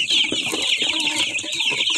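Crossbred chicks and tethered chickens cluck and chirp busily while being fed, a close, continuous chatter of high peeps over lower clucks.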